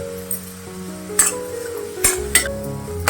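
Curry leaves and asafoetida stirred in a hot pan with turmeric, a low sizzle under sharp metal clinks of a spoon against the pan at a few irregular moments.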